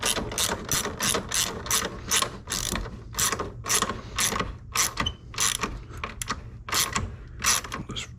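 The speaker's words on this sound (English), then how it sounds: "I like doing everything with ratchets so I can feel what I'm doing," A hand ratchet clicks in fast repeated strokes as bolts on a tow mirror for a 1999–2007 Sierra/Silverado are tightened, loud and close over a steady low hum.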